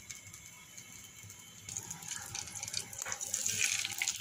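Fish pieces (silver carp) dropped into hot oil in a pan on a gas stove, giving a steady hissing sizzle that swells louder toward the end, with no talking.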